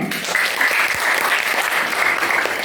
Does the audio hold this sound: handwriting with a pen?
no